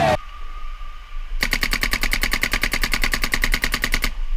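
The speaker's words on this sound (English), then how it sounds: "Like a little machine gun, that." A paintball gun firing in a rapid, machine-gun-like burst of evenly spaced sharp cracks lasting about two and a half seconds, loud and close, preceded by a brief squeal.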